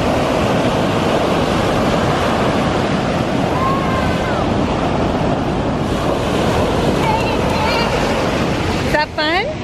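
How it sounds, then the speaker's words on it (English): Ocean waves breaking on a beach, continuous loud surf wash with wind buffeting the microphone, and voices heard briefly near the end. "And the waves are a lot crazier."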